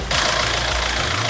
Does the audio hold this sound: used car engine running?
yes